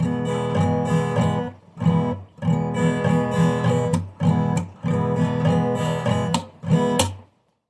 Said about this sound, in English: Now we are combining the scales from the first and second patterns